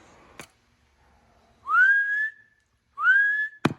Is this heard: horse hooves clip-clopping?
no